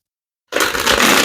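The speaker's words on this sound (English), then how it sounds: "let's get one more shuffle" Tarot cards being shuffled by hand, a dense, continuous papery riffling that starts abruptly after a moment of silence and stays loud and close.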